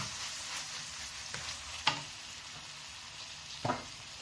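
Minced meat (qeema) frying in its released oil in a pan, a steady close sizzle with a few sharp scraping stir knocks, no talking.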